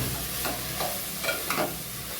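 Minced keema meat stir-fried in a pan, a continuous close sizzle with a few soft scraping stirs of the spatula, brief and without talk.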